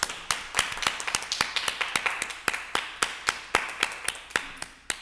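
Sparse applause at a live webathon event honoring a chairman, made up of a few distinct, separated claps in an uneven rhythm, close and fairly quiet, with no talking.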